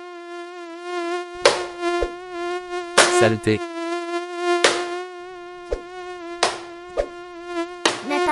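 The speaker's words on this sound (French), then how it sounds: "il y a un moustique qui m'agresse" A mosquito's high, thin whine drones close by, rising and falling, broken by several sharp slaps and a muttered word.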